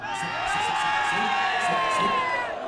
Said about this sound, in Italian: Un urlo per il Milan!